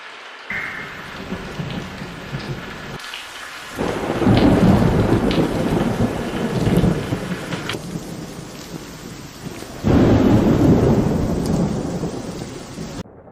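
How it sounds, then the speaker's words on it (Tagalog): Heavy rain pours continuously while thunder rolls and booms in long swells, loud and close, with no voices. "may paparating na malakas na bagyo"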